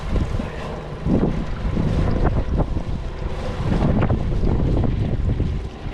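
Strong, cold winter wind buffets the microphone in continuous gusts while crabbing in Fort Pierce, roaring and rumbling close by, with water sloshing faintly underneath.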